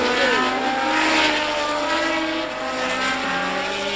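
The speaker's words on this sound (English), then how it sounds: "Jabouille in the Renault, well down, a difficult car to drive on this circuit" Formula 1 race cars at the 1978 Canadian Grand Prix, engines wailing at high pitch as they pass and shift, a loud sustained whine with rising and falling tones and no talk.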